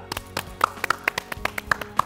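A small studio audience on the Indradhanush program gives scattered, uneven claps to welcome the poet Sajjad Jhanjhat; the individual hand claps sound close and separate over about two seconds, with no voices.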